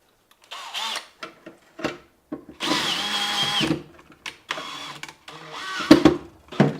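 A power drill drives a larger self-tapping screw through a grounding cable while upgrading a Dixie Narco BevMax vending machine, with several short whirring bursts and one longer sustained run, close and fairly loud.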